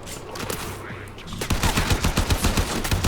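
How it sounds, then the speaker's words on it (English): Rapid machine gun bursts in Warframe erupt after a quieter opening, a loud, dense stream of shots dominating the second half. "And now we can just kind of mow dudes down with our very serviceable machine gun."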